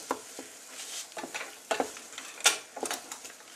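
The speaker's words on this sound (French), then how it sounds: "On y ajoute les shiitake." Shiitake mushrooms are tipped into a pan of frying ginger and onion, with soft sizzling under a run of stirring scrapes and light clicks of utensil on pan, close and moderate in level.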